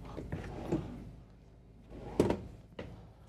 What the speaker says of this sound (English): we've got four more storage drawers, and all of these have the soft close feature to them